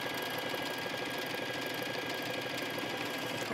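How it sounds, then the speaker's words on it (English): A sewing machine runs at a fast speed, stitching across the top of leggings fabric in one steady, dense mechanical whir that holds without a break, with no voices. "now I'm just gonna stitch across, all the way across the top on a faster speed than that"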